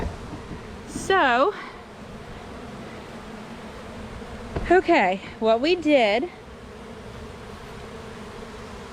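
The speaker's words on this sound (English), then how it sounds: "there's a lot of bees in here" Honey bees swarm and hum around an open hive being split into two colonies, a steady insect drone running throughout beneath a nearby person talking in short bursts.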